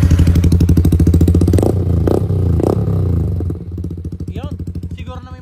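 A motorcycle engine fitted with an aftermarket exhaust pipe idles loud and close with a rapid throbbing pulse, blipped a few times in quick revs, with brief speech-like sounds near the end.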